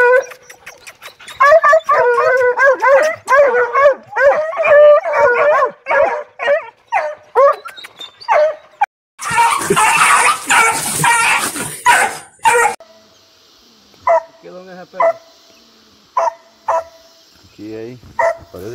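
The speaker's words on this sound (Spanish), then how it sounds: "Están los perritos." Hunting hounds on the chase near a cave bark, yip and howl in rapid, overlapping bursts, loud and close, with a long sustained stretch of noisy baying in the middle, mixed with occasional voices.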